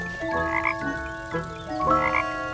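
A little cartoon frog in a children's video game croaks with two drawn-out, tonal croaks, loud and close, with a short pause between them and no talking.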